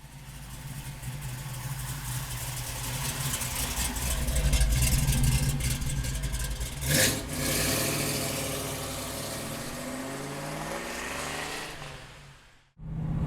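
The big-block V8 of a 1970 Chevrolet Camaro with a 4-speed and cowl hood runs close by, with a deep rumble that swells as it revs before a sudden cut near the end.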